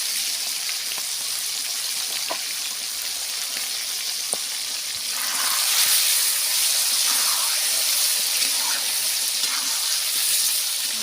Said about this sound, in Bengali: চিকেনটা আমি ভালো করে ভাজবো